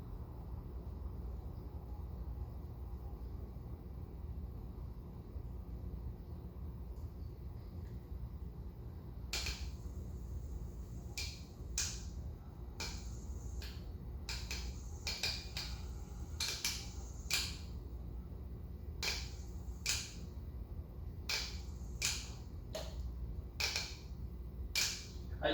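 A cast 60-inch Dayton/Leading Edge ceiling fan with a failed capacitor hums low and steadily, then breaks into a run of sharp irregular clicks and ticks that repeat for many seconds, close and fairly quiet.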